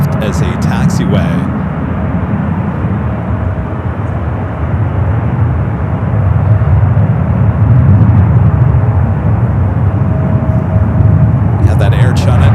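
An Air China Boeing 777 taxis out toward the departure runways at San Francisco airport, a loud steady jet engine roar that builds gently, with broadband wind-like rumble and people talking under it.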